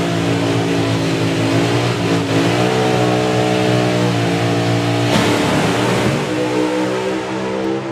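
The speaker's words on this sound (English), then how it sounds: "We'll hear the revs build, but only on one car." A loud drag racing car engine revs steadily at the start line, its rising harmonic whine building and holding close by, with a brief burst of extra roar partway through.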